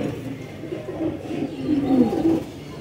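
Soft, repeated cooing of home-bred pigeons kept as breeding pairs, a steady low rolling murmur from several birds close by, with no talking.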